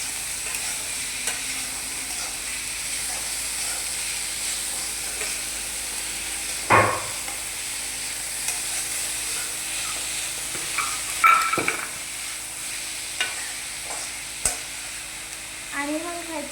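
Bhaji sautés and is stirred in a pan, a steady soft sizzle running throughout, broken by a few sharp clinks and scrapes of the spatula against the pan.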